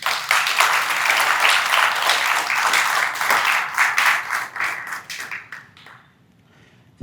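An audience at a conference forum claps in a full round of applause that holds steady, then thins out and fades to near silence.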